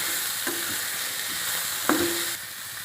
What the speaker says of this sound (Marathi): या भाज्या छान परतून घ्यायच्या, कांदा गाजर हे।